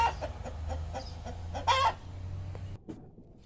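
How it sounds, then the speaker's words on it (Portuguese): A rooster and free-range backyard chickens cluck nearby in a string of short, uneven calls, with one louder, brighter squawk midway before the sounds cut off into near silence. "Olha o galo. Galo amanheceu retado hoje."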